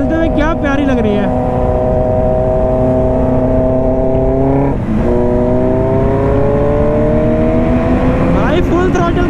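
A Kawasaki Z900 motorcycle ridden at full throttle on a city seafront road, its engine rising in pitch through a gear, dipping at a shift, then climbing again; loud, close and continuous with wind rush.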